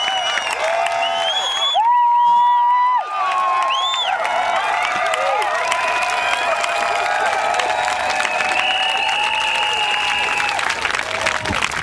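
A protest crowd at a climate camp in Blackheath bursts into loud cheering and applause, whoops and shouts rising together and holding strong throughout, with voices mixed into the din.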